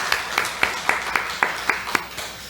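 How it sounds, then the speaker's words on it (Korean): Steady, evenly spaced hand claps, about four per second, ring out crisply in a church during a Sunday service as the congregation welcomes new members and returning visitors. "오늘 오신 새 가족이나 오랜만에 교회 방문해 주신 분들 우리 박수로 환영하고 축복하겠습니다"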